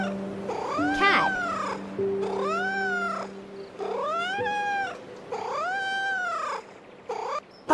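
A cat meows loudly and close, with about five long, drawn-out rising and falling meows, evenly spaced, with no other sounds.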